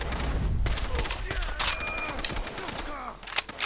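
Gunfire in Fallout 4, a few sharp shots and a rattling burst mixed with game effects and creaks, moderately loud, with a voice talking over part of it.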